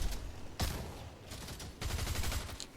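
Gunfire in the video game Fortnite during a match: sharp bursts of rapid shots with short gaps between them, loud and dense, with no voices over them.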